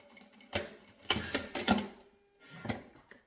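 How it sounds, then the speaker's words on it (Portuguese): A sewing machine stitches fabric to the very end of a tulle piece for a baby organizer bag, heard as short mechanical runs of rapid ticking and whirring in separate bursts, close and fairly quiet, with no talk. "Costuramos até o finzinho aqui."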